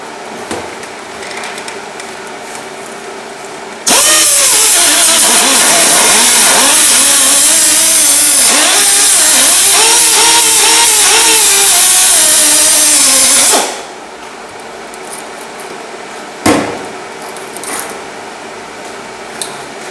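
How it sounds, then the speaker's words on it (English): Metal grinding on the body of a Rover SD1 car, a loud, steady angle-grinder whine lasting about ten seconds with wavering pitch as pressure changes, then cutting off sharply to quiet shop ambience. "just grind a tiny bit off the top there, which seems to be stuck in a bit"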